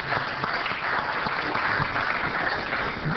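Steady applause from a council meeting audience at a Homestead city council presentation, honoring participating students and teachers, with dense, even clapping that holds at a constant level with no talk.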